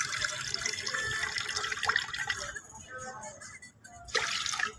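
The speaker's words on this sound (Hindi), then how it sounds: "पानी डालेंगे" Water is poured into a large 2000 ml glass beaker, a steady splashing stream that thins out, then a short louder gush at the end.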